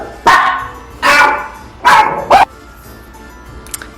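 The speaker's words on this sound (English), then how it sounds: "sorry, that was my dog" Dog barking indoors, close and loud, three full barks followed by a short yip and then quiet.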